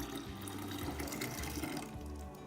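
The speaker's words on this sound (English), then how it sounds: "now we're gonna pour this pomegranate juice in with the berry lemonade" Pomegranate juice streams steadily into berry lemonade, a continuous soft splashing pour that runs without a break throughout, fairly quiet and with no voices over it.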